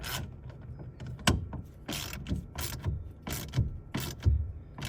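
A ratchet wrench tightens bolts on an RV black water valve, heard as repeated bursts of close ratcheting clicks in a steady back-and-forth rhythm with brief pauses between strokes.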